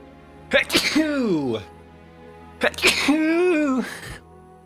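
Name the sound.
sneeze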